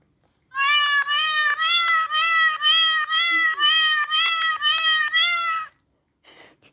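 A cat meows loudly and close by in a rapid series of about ten insistent calls, followed by silence and a faint trailing sound.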